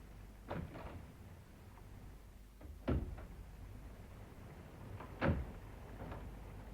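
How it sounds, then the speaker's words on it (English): A locked door being tried in a 1968 radio drama of Chekhov's The Seagull: three separate knocks or rattles of the handle spaced a few seconds apart, fairly close and not loud, with no talk. "The door seems to be locked."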